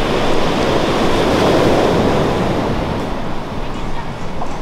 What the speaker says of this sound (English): My favorite beach of all time. The waves are crazy.